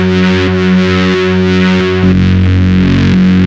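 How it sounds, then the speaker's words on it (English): Distorted pad patch on an Access Virus TI synthesizer, a thick sustained chord with rhythmic pumping volume ramps and a shift to a brighter, harsher timbre halfway before stopping abruptly. "ramp modulation of patch volume to get this pumping effect on this distorted pad sound"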